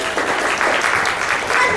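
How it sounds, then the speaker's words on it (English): A round of applause from an audience at a summer work event, dense clapping throughout, fairly loud and steady for a short burst. "Round of applause, everybody."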